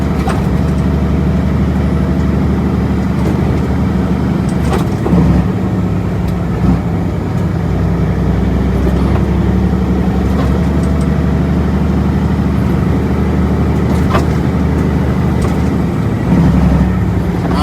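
A heavy truck engine drones steadily while driving, a loud, continuous low rumble with slight shifts in pitch as it moves along.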